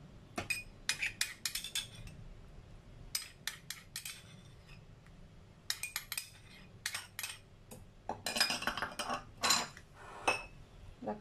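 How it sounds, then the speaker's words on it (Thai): A spoon scrapes and clinks against a mixing bowl while ground pork mixture is scooped in, a series of sharp, close metallic taps and scrapes arriving in quick bursts separated by short pauses. "เราก็ตักใส่ภาชนะสำหรับผสมหมักหมูเลยนะคะใส่หมูสับลงไปเลยนะคะ"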